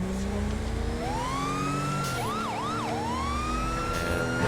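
A police siren in GTA with the LSPDFR mod wails and rises, then breaks into a quick yelping warble before settling back into a long wail, loud and close over steady engine rumble.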